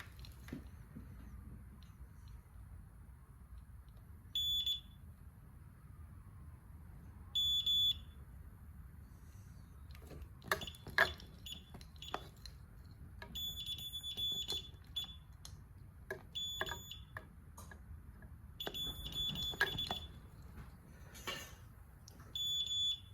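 Short electronic alarm beeps from a security system during a storm power outage repeat at intervals, high and piercing, over quiet rustling and handling noises in a room.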